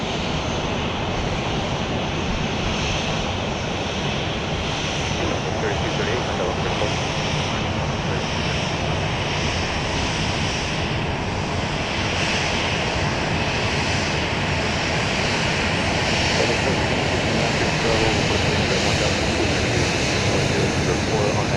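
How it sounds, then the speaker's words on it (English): A Boeing 737-800 jet airliner at Dallas Love Field produces a steady, broadband engine roar throughout, heard from a distance with a constant wash of noise that never drops away. "So this plane once again going to Los Angeles, a 737-800."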